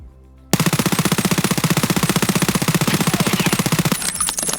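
P90 submachine gun in Escape From Tarkov fires a continuous rapid full-auto burst of about three and a half seconds, loud and close, ending in a brief mechanical rattle.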